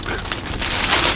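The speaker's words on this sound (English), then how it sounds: "Don't mind the rain." Steady patter of rain hitting a surface close by, a dense hiss with scattered drops, brief and fairly loud.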